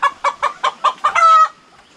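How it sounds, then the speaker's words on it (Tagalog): A rooster named Cobra gives a loud, close call, six quick clucking bursts leading into a short sustained crow that fades out, with nothing else around it. "At ngayon naman may tandang tayo dito na dala."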